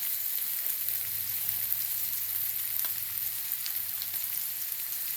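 Oil frying breadfruit and prawns for a thoran, a continuous dense crackling sizzle that holds steady and close with no talking.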